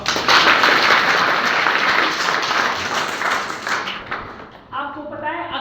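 Students in a B.Ed teacher-training class clap loudly for a teacher, dense applause lasting about four seconds before stopping, followed by a voice talking.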